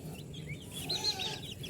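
Young chicks being raised without a heat lamp give a few soft, close clucking and high peeping calls over a low, muffled background.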